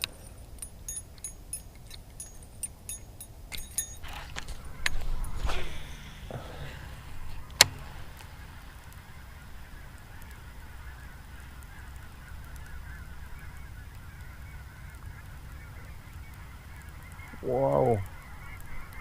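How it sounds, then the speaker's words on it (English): Geese honking by a lake while bass fishing, faint scattered calls with a few sharp thumps and clicks nearby, then a louder honk near the end as the flock passes overhead. "That's a lot of geese."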